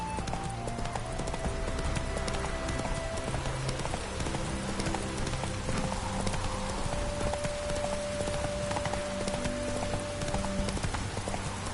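Hooves of Roach, Geralt's horse in The Witcher 3, clip-clop in a steady walking rhythm over a constant bed of game music and ambience, with faint rain-like patter throughout.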